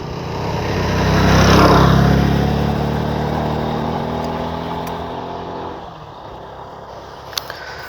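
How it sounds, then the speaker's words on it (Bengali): A Honda SP 125 fuel-injected motorcycle engine runs up close, swelling to a revving peak early on and then settling into a steady idle hum, with a couple of faint clicks near the end. "তো আমি এখন আপনাদেরকে ইঞ্জিনের কাছ থেকে শোনানোর চেষ্টা করতেছি"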